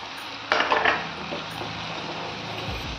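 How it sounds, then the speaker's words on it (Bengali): Spice paste and whisked yogurt frying in oil in a pan, stirred with a utensil, with scraping clatter of spoon on metal over steady sizzling, one sharper burst near the start. "এবার আমি ভালো করে নাড়তে থাকবো যতক্ষণ পর্যন্ত মশলাটা কষে তেল ছেড়ে আসে"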